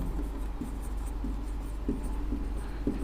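Pen writing by hand on a register page, a steady soft scratching with faint repeated strokes, close and continuous, with no talk over it.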